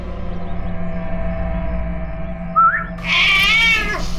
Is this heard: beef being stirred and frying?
no